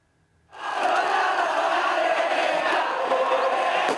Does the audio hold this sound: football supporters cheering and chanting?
yes